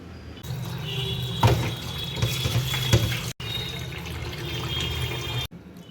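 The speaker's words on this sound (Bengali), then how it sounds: "এবারে ঠান্ডা জল দিয়ে ভালো মতন ধুয়ে নেব" Soaked soya chunks are rinsed under cold running tap water, a steady close splashing flow with a few louder splashes, briefly interrupted midway and cutting off at the end.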